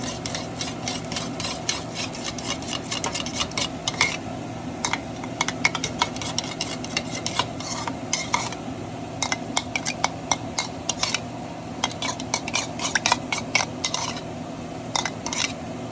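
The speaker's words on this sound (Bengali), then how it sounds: "তো এই সব কটা সসকে আমি একসাথে মিক্স করে নেব।" Sauces for chilli paneer being stirred together in a bowl, with a spoon repeatedly scraping and clinking against the sides in a steady rhythm over a low hum, no talking.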